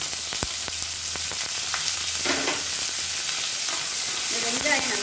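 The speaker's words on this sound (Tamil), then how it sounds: "இந்த வெங்காயம் நல்லா வதங்கணும்." Sliced onion sizzles in hot oil and ghee with cumin and a bay leaf, a steady frying crackle with occasional spoon scrapes and stirring clinks, close and without talk.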